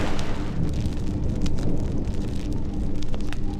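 Rain falls steadily in the survival crafting game Survival and Craft, a continuous broadband hiss that stays dense and even from start to finish with no voices over it.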